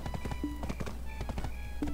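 Horse hooves clip-clop in a steady, quick rhythm in the online game Black Desert, fairly close and loud over a low continuous ambient hum.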